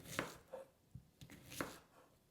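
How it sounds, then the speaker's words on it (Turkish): Knife chopping a dry onion on a board, a handful of soft irregular taps, close but quiet. "Evet kuru soğanı da doğrayalım"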